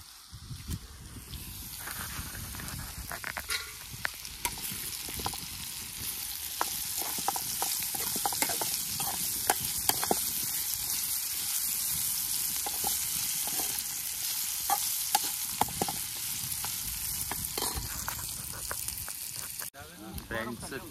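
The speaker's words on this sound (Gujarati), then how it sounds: "અત્યારે છે ને ઓળાનો વઘાર ચાલુ છે" Onion and spring-onion tempering (vaghar) for a brinjal oro sizzles loudly in a pan at an outdoor village picnic cookout, a continuous bright frying hiss with occasional stirring clatters, cutting off briefly near the end.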